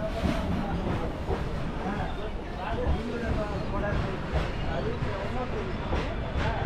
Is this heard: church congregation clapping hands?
no